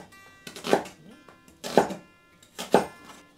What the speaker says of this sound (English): The onion also, cut it in fairly large chunks.